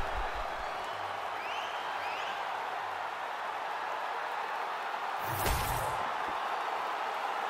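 An arena crowd murmurs and roars steadily in a mixed martial arts fighting game, a broad wash of cheering and applause with a brief louder swell near the end.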